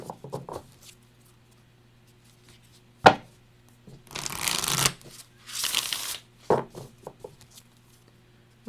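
A Moonology oracle card deck is shuffled up close, with short riffling bursts, soft card slaps and a few longer flurries separated by quiet pauses.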